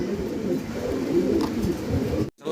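A female fancy pigeon cooing close by, a steady low throaty murmur that runs continuously before cutting off abruptly near the end.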